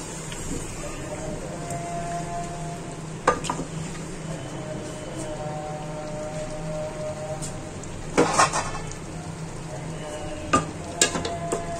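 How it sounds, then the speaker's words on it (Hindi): Potatoes roast in a pan with a low, steady sizzle, interrupted by several sharp scraping clatters from stirring near the middle and end. "तो फिर आलू को थोड़ा सा भूनेंगे"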